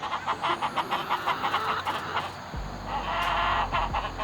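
Backyard chickens cluck in steady, rhythmic pulses. Partway through, a low engine-like rumble comes in underneath.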